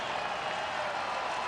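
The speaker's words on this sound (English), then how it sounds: "This crowd has come alive again." A baseball crowd at a Cardinals vs Tigers game cheers and applauds after a home run, a dense, steady roar of many voices and clapping that holds at an even level throughout.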